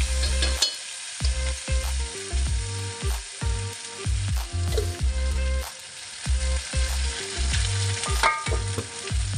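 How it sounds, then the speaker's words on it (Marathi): A thick green spice paste for Kolhapuri chicken sizzles and spits in a hot pan, with repeated scraping strokes of a spoon stirring it in an uneven rhythm. "वाटण चांगला परतून घेऊ."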